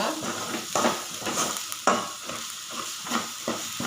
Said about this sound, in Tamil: லேசாக வதக்கிட்டுருவோம்.